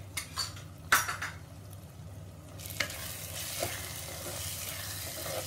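Chicken kheema masala with coriander powder being stirred and roasted in a pan, a soft steady sizzle with a few clinks of spoon against metal and scraping strokes, close and moderately quiet.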